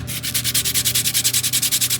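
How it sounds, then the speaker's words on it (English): Rapid, steady back-and-forth rasping of sandpaper lightly sanding the wooden hull of a 1:100 scale model ship, about eight strokes per second, close and continuous. "I'm going to start to lightly sand"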